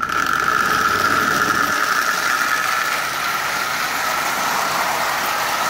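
Marx 999 toy steam locomotive rebuilt from parts with a brand new motor, running on track with a steady, loud motor whine and rattling mechanical hum throughout, no talking.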